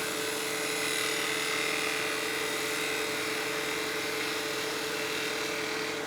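Wood spinning top being shaped on a lathe with a spindle gouge, a steady high whirring hiss of the spinning workpiece and cutting that runs unbroken and fairly loud throughout, with no talk.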